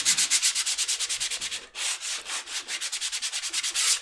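A wooden paddle's acrylic paint being sanded with coarse 100 grit sandpaper: fast, rhythmic back-and-forth scratching strokes, close and loud, with a brief pause midway and no voices.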